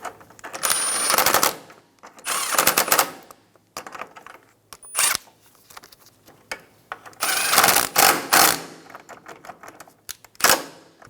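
An impact or power tool drives hood latch bolts on a 2007-2012 Nissan Altima in loud rapid bursts, several short rattling runs separated by pauses, close and without speech.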